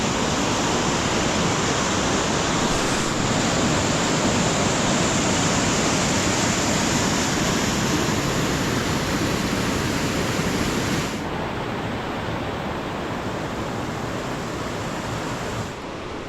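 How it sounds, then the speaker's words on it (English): Cascading water at Finch Hatton Gorge in Australia rushes in a loud, constant hiss of falling and splashing water, heard close and alone, easing slightly in level toward the end. "Came down to the other cascades."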